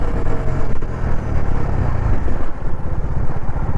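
A Bajaj Dominar 400 motorcycle is ridden in rainy weather. The engine rumble is loud and constant, with road noise and wind roar running through the whole stretch.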